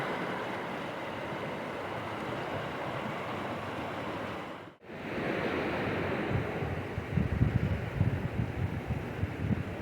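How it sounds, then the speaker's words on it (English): Steady broadband rushing water, like a river flowing below, continuous and fairly loud with a brief dip midway, no voices. "Love the sound of that river."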